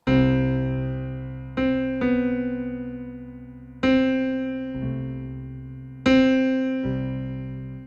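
Piano chords struck one at a time in loose, unmetered timing, each left to ring and decay before the next arrives; no talking.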